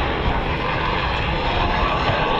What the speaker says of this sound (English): the two General Electric T700 1800 horsepower engines throbbing